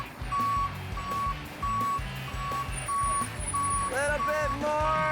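A cement truck reversing, its backup alarm beeping in a steady even rhythm about once a second, loud and close over a deep engine rumble, with a voice calling out near the end.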